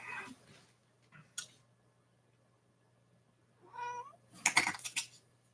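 A cat meows a few times close by, short distinct calls separated by quiet gaps, with a louder, rougher meow near the end.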